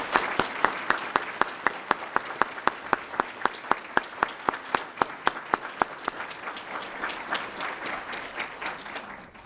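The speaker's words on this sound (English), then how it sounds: "Let's give them a round of applause." An audience at a regional student art show awards ceremony gives a round of applause, with one loud, steady clapper near the front over a broader crowd that builds and then thins out.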